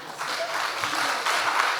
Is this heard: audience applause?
yes